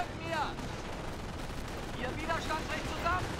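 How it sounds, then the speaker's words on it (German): Distant mortar and artillery fire in the World War II strategy game Company of Heroes thud and crack in scattered blasts over a constant battle rumble, with someone talking excitedly over it. "Nein, der Mörser schießt."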